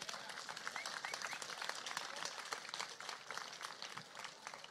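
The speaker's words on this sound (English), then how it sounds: "Can we just get another round of applause for him?" At a vegan festival talk in Adelaide, an audience gives a dense round of applause that holds steady and fairly faint for several seconds, with no speech over it.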